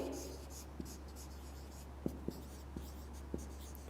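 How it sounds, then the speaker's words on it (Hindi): Chalk or marker tapping and scraping on a board while an example sentence is written during an English lesson, with a few distinct light taps over a steady low hum in a quiet room. "लिखते हैं असलम इज इल"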